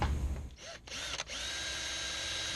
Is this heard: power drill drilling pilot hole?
yes